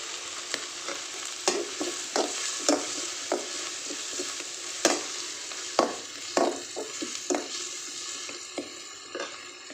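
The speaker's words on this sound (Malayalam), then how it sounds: "കറിവേപ്പില ഇട്ട് കൊടുക്കും" Curry leaves sizzle loudly in hot oil in a pan, a steady crackling hiss broken by sharp pops and stirring scrapes, heard up close with no talking.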